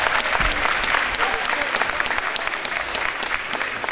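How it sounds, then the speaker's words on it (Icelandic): Audience applause for athletes at a sports awards ceremony in Akranes, dense clapping from a hall full of people with a murmur of voices mixed underneath. "gefum öllum gott klapp."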